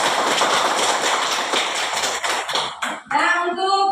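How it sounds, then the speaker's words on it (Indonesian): Students in a classroom clapping for two presenting groups, a dense burst of applause that fades out near the end before sharper, tonal sounds take over. "Kita aplaus dulu untuk kedua kelompok."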